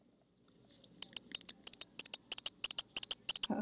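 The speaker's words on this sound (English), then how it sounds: "that's like the second time ever that my MacBook has started making a weird," A MacBook laptop making a weird high, thin electronic chirping, starting as sparse faint ticks then settling into a fast, steady run of shrill pulses, close and clear, with a brief low bump at the very end.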